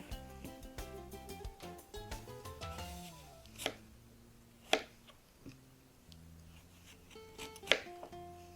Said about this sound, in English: Next, we're going to go ahead and chop our apple.